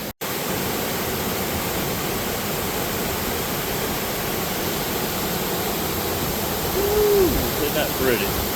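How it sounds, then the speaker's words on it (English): A small waterfall and cascades on the Boone Fork trail give a steady, dense rushing roar of water that fills the whole stretch without pause. "some pretty good little falls here. A bunch of cascades."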